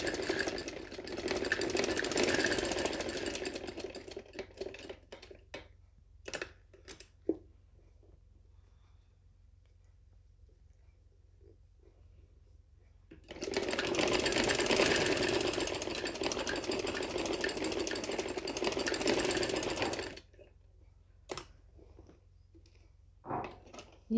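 A sewing machine stitching a kurti collar runs in two bursts of rapid, close mechanical whirring, separated by a long quiet stretch with scattered clicks.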